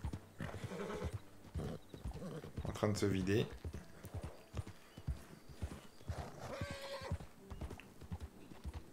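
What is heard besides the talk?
horse hooves galloping in video game Red Dead Redemption 2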